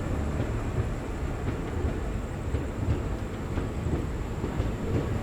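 Near-empty passenger train running at night from Digha toward Kolkata; a steady, loud rumble and roar of the carriage fills the whole stretch with faint rhythmic clatter and no voices.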